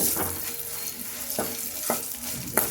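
Spices and asafoetida being stirred into rasam in a pan, a steady sizzle with a few distinct scraping strokes of the spoon, close and clear with no talk.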